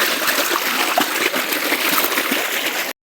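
Irrigation water on a farm rushes and gurgles steadily nearby, a continuous flowing stream with small splashes, then cuts off abruptly.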